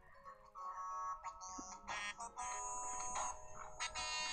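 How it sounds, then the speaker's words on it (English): A mobile phone rings with a repeating electronic melody over a game's background music, with short pauses between the ringtone phrases. "That's my phone."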